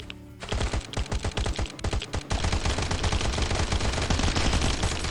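Rapid, loud automatic gunfire rattles almost without pause in the survival video game Last Island of Survival, sustained bursts growing denser partway through, with no voices.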